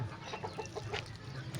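A pet chicken clucks in short, irregular bursts while being bathed with water on a hot day, the calls close and moderately loud over a low background hum.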